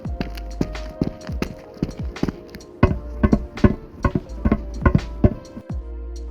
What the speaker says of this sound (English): assigns a surface material switch to the player footstep sound whenever the player walks on that particular game object